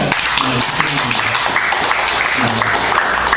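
A church congregation claps together in blessing during a service, a steady dense wash of applause filling the room, with voices speaking over it.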